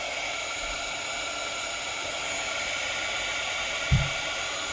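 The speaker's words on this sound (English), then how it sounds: "Get our heat gun." A heat gun blows steadily while melting embossing powder on die cuts, a constant airy whir with a soft bump near the end.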